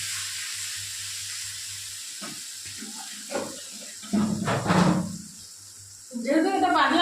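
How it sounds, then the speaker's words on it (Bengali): Water pours into a pan of spiced oil for a thin chela fish curry, with a steady background hiss, a splashing gush partway through and a rising bubbling sizzle after it, close by. "এবার আমি জল দিয়ে দেবো।"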